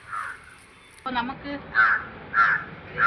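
Harsh crow caws ring out several times over someone talking, loud and fairly close, following a brief quieter stretch.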